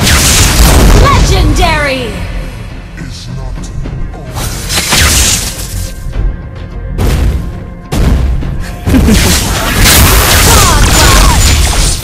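A turret in Mobile Legends: Bang Bang is destroyed with loud, heavy booms and crashing bursts amid whooshing battle effects, while a game announcer voice calls out between the blasts.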